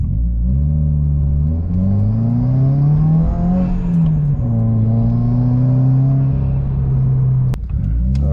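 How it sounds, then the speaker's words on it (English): A modified Subaru WRX accelerates hard with a loud, close exhaust and induction roar rising through the gears. The engine note climbs in pitch, dips at each shift and climbs again, then cuts off abruptly near the end. "All right, first acceleration here."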